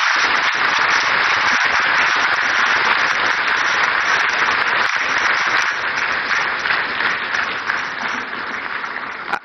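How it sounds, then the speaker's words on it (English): Sustained, loud audience applause fills the hall after a speech at the 2025 National Economic Dialogue in Accra, a steady dense wash of clapping that continues evenly for about nine seconds with no talk over it. "the spontaneity of the applause shows the quality of the work"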